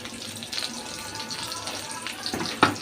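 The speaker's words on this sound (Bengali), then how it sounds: "তেজপাতা দিচ্ছি, একটা শুকনো মরিচ দিচ্ছি আর রসুন।" Bay leaf, dried chilli and chopped garlic tempering in hot oil, a soft steady sizzle and crackle close by, quiet throughout with a brief louder clatter near the end.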